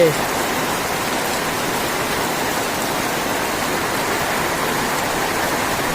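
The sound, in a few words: heavy rain falling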